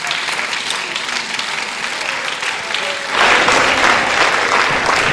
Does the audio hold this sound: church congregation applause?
yes